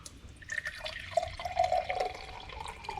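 Water poured from a jug into a glass container up to a marked line, a gurgling, dripping pour that builds and swells through the middle, close by with no talking.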